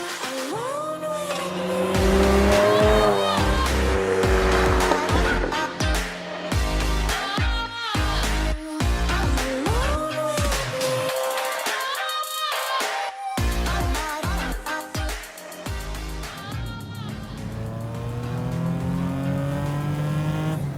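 Second-generation SW20 Toyota MR2 with a swapped 3.5-litre RAV4 V6 and a Lotus supercharger, accelerating hard through several gears, with the engine note rising and falling loudly between shifts and a brief lull midway.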